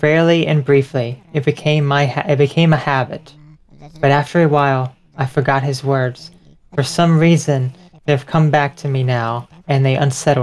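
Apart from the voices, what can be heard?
No everyday noise stands out behind the speech.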